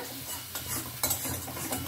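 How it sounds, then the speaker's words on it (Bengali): Garlic and onion paste frying in a pan over a medium flame sizzles steadily while a utensil stirs it, with a few sharp scraping knocks against the pan and no talking. "একটু নাড়াচাড়া করে নিলাম, রসুন পেঁয়াজটা একটুখানি ভাজা হয়ে যাক"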